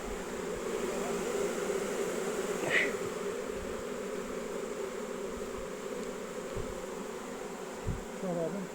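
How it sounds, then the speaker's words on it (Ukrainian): Agitated honeybees at an opened hive give a steady, dense buzzing drone that holds through the whole stretch, with occasional handling knocks close by. "Бджоли собі вирішили самі робити так, як вони хочуть."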